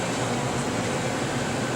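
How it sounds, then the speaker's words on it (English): Denton DV-502A vacuum evaporator pumping down with its roughing valve open, a steady, dense mechanical rush and hum that holds even and unbroken throughout, loud and close with no voices. "I'm going to pump down the system in auto mode. So first the roughing valve open"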